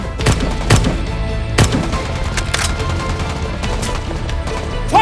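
Gunfire in a dubbed war drama: several sharp, loud shots ring out at irregular intervals over a rumbling battle background, with no voices.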